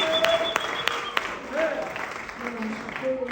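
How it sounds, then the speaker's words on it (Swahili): Church congregation clapping during a testimony, scattered hand claps rising and fading in bursts while a voice speaks and others call out over them. "Makofi kwa Yesu."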